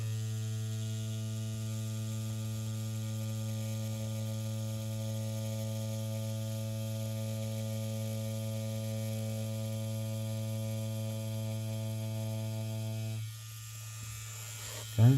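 A tattoo machine drones as a steady electric hum with strong harmonics throughout linework practice, then cuts off near the end with a brief noise.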